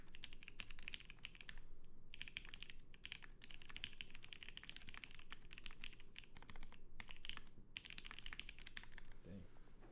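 Someone types on a JTD Works Khajit mechanical keyboard, producing dense, rapid clacking keystrokes in quick bursts with short pauses, close and fairly quiet, with no voices.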